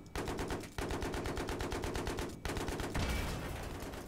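Battlefield 3 video game gunfire: dense, rapid automatic bursts that run almost without pause, loud and close, with a brief gap before another sustained volley.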